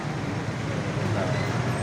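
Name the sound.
heavy road traffic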